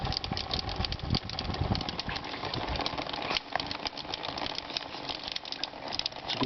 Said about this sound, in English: It's a good motor, very good motor this, very powerful.